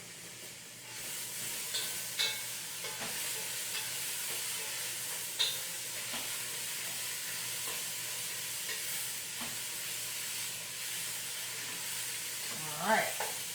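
Green beans and chopped tomatoes simmer down in a minestrone soup pot, a steady hissing sizzle with occasional soft stirring taps and a brief clatter near the end.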